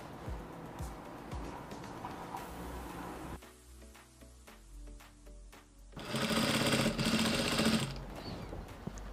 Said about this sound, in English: you top stitch the bias on top of the armhole